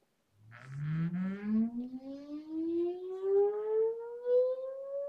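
A steady electronic tone from a tone generator sweeps smoothly upward from low to higher pitch, continuous and unbroken, heard alone without any voices; a frequency sweep for measuring drone frame resonance.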